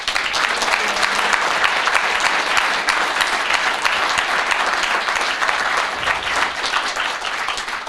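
An audience at a university presentation claps loudly and steadily, a dense continuous roar of many hands filling the room without pause.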